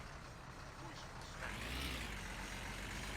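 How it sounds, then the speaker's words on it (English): A van in the driving game My Summer Car locks up its brakes, a rising, faint skidding whine over a constant engine drone that lasts about a second and a half. "Locking up the brakes."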